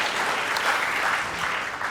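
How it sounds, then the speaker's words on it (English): A brief burst of audience applause, many hands clapping at once, fairly soft and steady. "you can clap for that"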